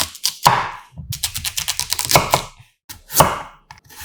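A knife julienne-cuts peeled kohlrabi into thick strips on a cutting board, giving quick, close, crisp chops in uneven bursts with brief pauses between runs, and no one speaking.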